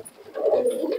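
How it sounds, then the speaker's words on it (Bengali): Bali breed pigeons at a pigeon market in Murshidabad give a short, close, soft cooing call that rises and holds for about a second. "বালি কবুতরটা দেখেন"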